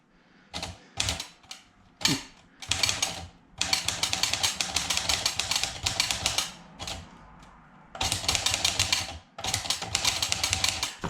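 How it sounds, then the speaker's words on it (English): A problematic secondhand manual typewriter being typed on, loud close clacking keystrokes in rapid bursts separated by short pauses, with no talking. "So I'll type. Can you hear that clacking sound?"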